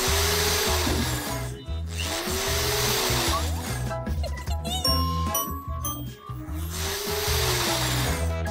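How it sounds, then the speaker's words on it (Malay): A power screwdriver drives screws into a bed frame, its motor whirring in repeated bursts that rise and fall in pitch, with metallic clinks and rattles between runs, close and loud. "Memasangnya dengan skru."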